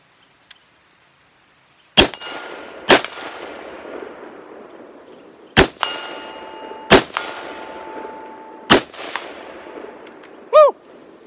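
A Springfield Armory Saint AR pistol fires single shots at steel targets. Loud, sharp reports come at irregular intervals, each followed by a ringing metallic clang that decays slowly.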